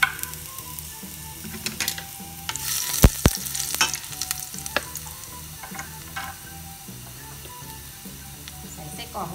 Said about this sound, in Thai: เมื่อกระทะร้อนแล้วนะคะเราก็ใส่กระเทียมสับลงไปค่ะทุกคน